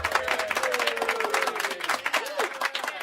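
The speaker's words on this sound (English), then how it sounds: "Wait up, I gotta applaud him." A crowd claps and cheers for a guest in a steady, dense round of applause with a few whoops rising above it, going on under a voice.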